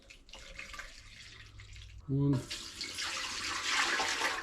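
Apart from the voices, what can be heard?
water poured into an oil pan to measure capacity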